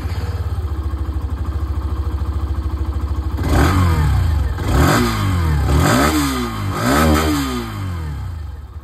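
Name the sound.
Hero Xtreme 125R motorcycle exhaust sound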